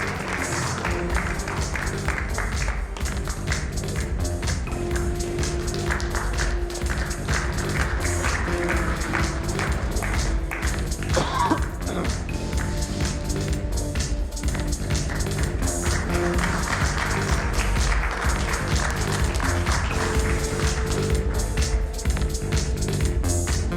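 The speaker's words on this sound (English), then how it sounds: "Let's have a big round of applause for our panelists." An audience at a panel discussion on youth sports claps for the panelists, a dense, sustained patter of many hands that holds steadily from start to finish with no talking.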